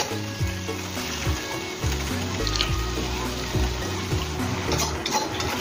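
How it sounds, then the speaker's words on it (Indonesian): White shimeji mushrooms simmer in a pan with a steady watery bubbling and soft sizzle, moderately loud and continuous, under background music. "Kita biarkan mendidih."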